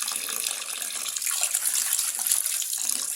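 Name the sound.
washing beef pieces in water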